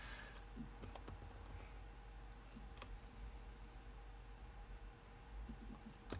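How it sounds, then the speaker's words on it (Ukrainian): Keys clack on an Acer Aspire 7720 laptop keyboard, including the Enter key, as a few scattered, crisp clicks over a faint, steady background hiss. "Нажимаємо Enter."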